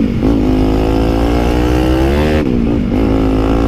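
A motorcycle with a modified exhaust revs loudly and steadily close by, its throaty drone dipping and then rising again partway through.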